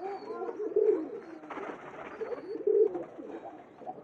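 Absi and Kalkan pigeons coo nearby, two soft, throaty coos about two seconds apart over a low murmur of other birds.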